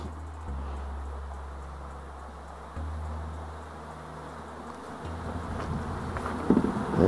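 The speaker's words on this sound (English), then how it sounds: "I'm fairly positive that my bees are getting the most of it" Bees buzz steadily throughout, a continuous droning hum with shifting pitch as insects move near and away; no voices.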